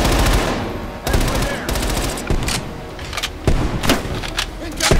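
Gunfire crackles in Call of Duty Black Ops Cold War, with dense bursts of automatic shots broken by a few sharp pauses and heavier booms, loud and close throughout.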